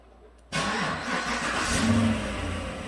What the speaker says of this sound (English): Let's try the car starter.